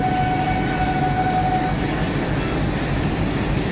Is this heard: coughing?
no